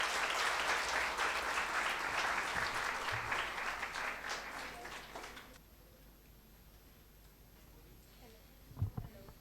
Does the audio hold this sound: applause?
yes